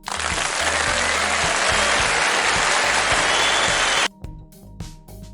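A phone applause app plays a recorded burst of crowd clapping, loud and dense for about four seconds before it cuts off abruptly, leaving faint electronic tones and a few light taps.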